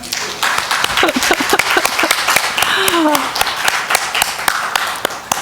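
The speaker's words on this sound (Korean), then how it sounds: "우리 목사님 위해서 박수 한번 드릴까요?" A church congregation at a Sunday worship service breaks into brisk, close applause with distinct individual claps, while voices call out and chatter underneath.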